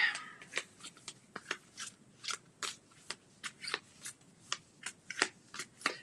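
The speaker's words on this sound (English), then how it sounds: "This is how I shuffle cards." Tarot cards are shuffled by hand in close, crisp bursts of riffling and sliding, about a dozen quick strokes in an uneven rhythm with brief pauses, nothing else heard.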